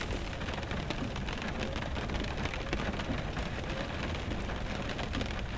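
Steady rain while driving a truck in Euro Truck Simulator 2, a dense continuous hiss of drops pattering on the cab, even and loud throughout with no voices.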